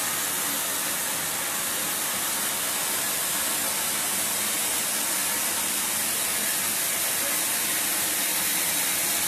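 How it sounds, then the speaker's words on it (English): A cocoa butter press runs in a chocolate production room, giving off a steady, loud broadband hiss like escaping steam or spray that holds unchanged and continuous throughout, with no voices. "The cocoa butter press is still making some cocoa butter"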